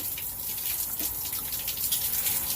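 Tap water runs and splashes steadily into a sink as soap is rinsed off a face after shaving, a continuous hissing gush with no voices.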